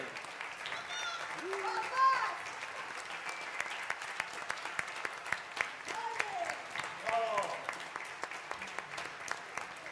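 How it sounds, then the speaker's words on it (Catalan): Audience applause for the dance-studio dancers at a Sant Joan night musical show, a steady crowd clapping sustained across the whole stretch, with a voice speaking over it at moments. "Un fort aplaudiment a les ballarines"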